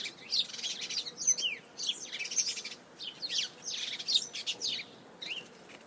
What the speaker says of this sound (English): The sound of birds is cool,